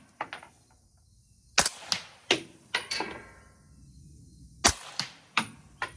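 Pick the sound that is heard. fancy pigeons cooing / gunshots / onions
gunshots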